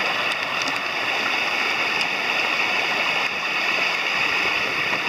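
A mountain torrent flows steadily near a cave-like spot during an autumn bivouac, a constant broad rushing wash of water with no break throughout.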